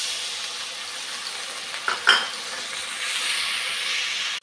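Mixed spice paste hits a pan of fried onion and tomato with a steady, close sizzling hiss, broken by a brief clatter of stirring partway through; no one speaks.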